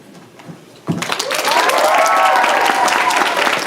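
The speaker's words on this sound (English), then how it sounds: "Hand claps, finger snaps, all good." An audience at a poetry lounge breaks into applause after a quiet moment, a sudden burst of hand claps and finger snaps that swells and holds loud and dense, with some cheering mixed in.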